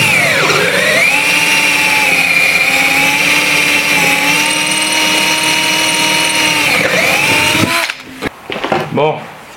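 A power tool bevels the edges of a brake pipe during work on a Renault 11: a loud, high whine runs steadily for about seven seconds, then winds down into a few clattering handling knocks.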